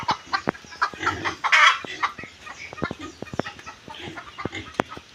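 Hens cluck in a rural farmyard where one has just laid an egg, giving a string of sharp, close clucks and squawks in an uneven rhythm with a brief louder burst of cackling.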